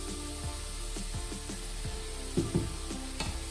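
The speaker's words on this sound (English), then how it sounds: "I just want to make sure the sauce starts bubbling." Mushroom sauce bubbling and sizzling steadily in a pan, with a low constant hiss, a few soft pops, and some stirring or utensil knocks.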